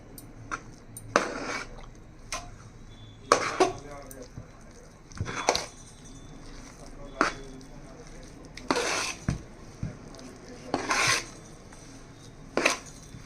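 Chicken pickle being mixed with masala powder gives uneven bursts of scraping and clattering strokes in a pan or bowl, close and moderately loud, with a voice speaking in the pauses.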